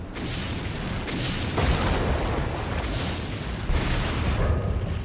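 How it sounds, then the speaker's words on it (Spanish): Loud, sustained roaring blasts of torpedo explosions against a ship's hull in an animated naval battle, deep and continuous, with heavy booms swelling over a dense noisy rumble. "los temidos torpedos alcanzan el casco del Chicago y estallan con una horrenda explosión"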